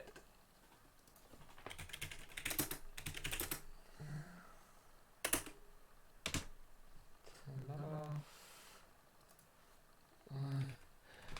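Scattered bursts of keyboard typing, clicky and a little crackly, with quiet gaps between them and a few brief murmurs of a voice.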